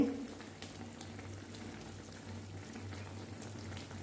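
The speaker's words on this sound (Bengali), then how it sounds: "কুলগুলো কি সুন্দর ফুটছে টকবক টকবক করে" A pan of thick jujube pickle bubbles and simmers steadily, with soft popping and gentle sizzling throughout, close by and fairly quiet.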